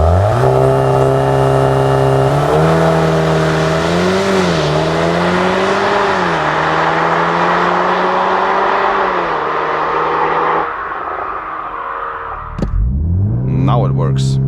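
A VW Golf R 8.5 Black Edition accelerates hard from 0 to 100 km/h on a country road. The loud engine drone climbs steadily in pitch, with brief dips at the gear shifts, then cuts off abruptly near the end.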